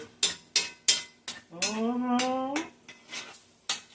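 A utensil scrapes and clinks against a pan while pesto parmesan shrimp alfredo pasta is mixed, sharp metallic taps repeating near the mic with a squeaky scraping smear in the middle.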